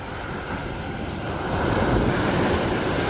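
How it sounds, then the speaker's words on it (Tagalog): Strong ocean waves off Calagwas Island roll in as a continuous, broad roar with wind buffeting the microphone, swelling noticeably louder about halfway through; no voices. "Lakas ng alon."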